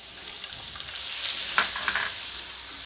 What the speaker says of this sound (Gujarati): એમાં હું ડુંગળીનો વઘાર કરું છું